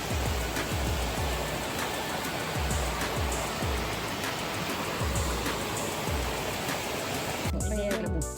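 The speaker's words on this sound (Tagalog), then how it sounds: "Ayan ay waterfalls." A waterfall near an amusement park in Branson, Missouri, makes a loud, continuous rushing roar with low rumbling pulses underneath, broken by brief handling noise near the end.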